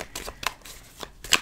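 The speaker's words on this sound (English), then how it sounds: "one more shuffle" Tarot cards are shuffled by hand in quick riffling bursts with soft papery flicks, close and moderately quiet, with no speech over them.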